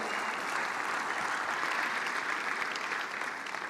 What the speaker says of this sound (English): Please just clap for yourselves.